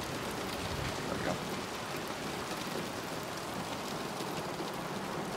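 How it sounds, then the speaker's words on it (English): Steady rain falling in the video game Somerville, a dense continuous hiss of drops on surfaces, even and moderately loud throughout with no voices. "The rain sounds so real."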